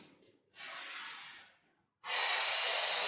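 Loud, close breathing during a hips-dips workout: one long airy breath, a short pause, then a second strong rushing exhale, with no speech.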